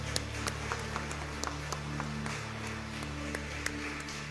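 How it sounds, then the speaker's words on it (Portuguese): Scattered clapping from a church congregation, soft and steady with a few sharper claps standing out, over a low constant hum. "Você pode aplaudi-lo comigo nessa noite."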